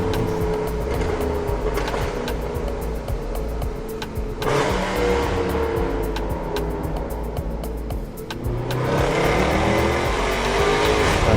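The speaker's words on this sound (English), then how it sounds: "it's like the exhaust note is just amazing" A Mercedes-Benz W204 C-Class in the over-500-horsepower 507 edition revs hard, and its engine and exhaust note rise and fall through repeated pulls. There are sharp shifts between gears and a surge of acceleration near the end.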